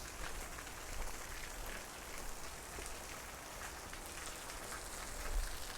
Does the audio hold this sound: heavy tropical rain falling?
yes